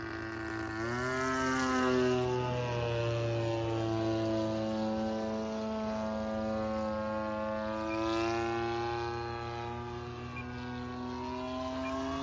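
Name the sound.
RC model airplane flying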